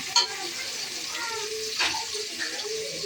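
Sliced onion and a bay leaf drop into hot oil for tempering, setting off a close, bubbly sizzle with a few sharp spits and utensil clinks, while a voice talks over it.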